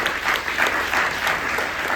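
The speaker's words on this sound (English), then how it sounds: "Give yourself a big hand clap for being here today." Dense, steady audience applause fills a community gathering on reparations, a brief continuous burst of many hands clapping with no talk over it.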